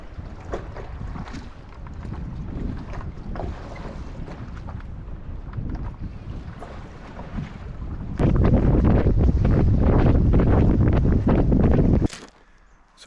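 A sailboat under full mainsail on Buttle Lake, steady water rush and hull wash with heavy wind buffeting the microphone, growing louder partway through before cutting off, no talk.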